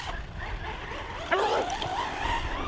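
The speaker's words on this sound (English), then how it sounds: "Oh, we got a dog wanting to give chase." A dog barks and yips at a nearby RC car, the Desert Fox V2, in a few short sharp bursts over the steady whine of the car's motor.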